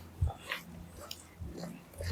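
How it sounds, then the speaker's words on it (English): A dog's short huffs and snuffling sounds, close by, in brief bursts with quiet breathing between. "Oh look, a dog."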